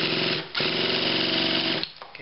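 A remote control model engine with one-way bearing trouble buzzes at a loud, steady, rapid rattle up close, briefly dipping twice before picking back up.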